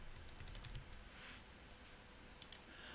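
Quick bursts of typing on a computer keyboard while entering a layer name in After Effects, soft scattered key clicks in two short clusters over a quiet room background.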